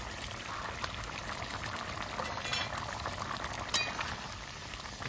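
Rohu fish curry with potatoes simmers in a pan, a steady soft bubbling and liquid hiss running throughout at a constant level, with no voices.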